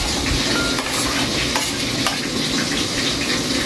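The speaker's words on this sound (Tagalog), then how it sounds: "Ilagay na natin Kaylee ng ating sibuyas." Chopped red onions hit a hot oiled pan with a loud, steady sizzle and hiss, close up, broken by light stirring scrapes and no talking.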